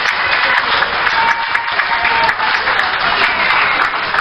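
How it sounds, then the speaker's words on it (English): An audience at a forum gives a sustained round of applause, a dense, even crackle of many hands clapping that holds steady throughout with no talking. "Let's give him another round of applause."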